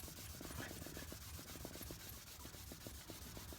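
Abrasive rubbing lacquer off a Suzuki GS750 motorcycle part by hand, a steady, close scratchy scrubbing with quick back-and-forth strokes, fairly quiet and without speech.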